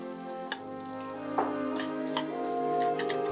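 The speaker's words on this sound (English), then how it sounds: "Add the rice and mix it up so it doesn't clump up." Eggs, green onions and rice sizzle steadily in a hot wok for fried rice, with occasional scraping and tapping from stirring rising above the constant frying hiss; no one speaks.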